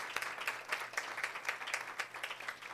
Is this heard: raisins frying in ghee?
no